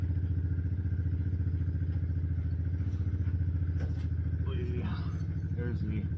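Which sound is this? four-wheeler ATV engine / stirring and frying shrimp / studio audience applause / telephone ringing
four-wheeler ATV engine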